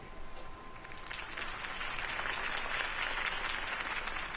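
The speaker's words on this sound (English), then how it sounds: "If only Mr. Wayne, my campaign's largest backer, could have heard that applause" A crowd claps and cheers in a video game, the applause swelling after the first second and holding steady and dense to the end.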